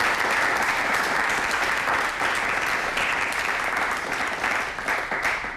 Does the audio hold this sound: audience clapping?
yes